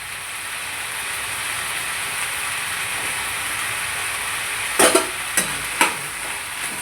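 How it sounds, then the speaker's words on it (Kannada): Tomato and brinjal stir-frying in oil, a steady broadband sizzle running throughout, with a few sharp spatula scrapes or knocks against the pan near the end. "ಬದನೆಕಾಯಿ ಇವೆಲ್ಲ ಸ್ವಲ್ಪ ಮೆತ್ತಗಾಗೋ ತನಕ ಹೀಗೆ ತಾಳಿಸ್ತಾನೆ ಇರಬೇಕು"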